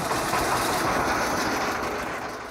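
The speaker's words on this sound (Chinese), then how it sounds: "渔船的马达声再次响起" A fishing boat's motor runs on the Bei River in Guangdong, giving a loud, close, steady mechanical drone that fills the whole moment without any voices.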